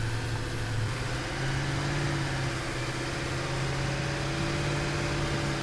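Tractor engine idling in Satisfactory, a steady droning hum with a low tonal whine that holds constant throughout, fairly quiet and with no talk.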